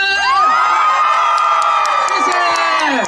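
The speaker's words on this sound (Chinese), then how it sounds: "再一次哦。 尖叫声！" A concert crowd at an outdoor art-festival show in Qijin, Kaohsiung, screams and cheers loudly and continuously, with high shrieking voices rising over the roar.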